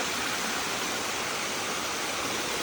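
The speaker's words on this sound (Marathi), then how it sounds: "पायऱ्यांवर आता पाणी पडतंय बघा." Rainwater pours down the stone steps of a hill fort like a waterfall, a dense, steady rushing roar that fills the whole stretch with no voices.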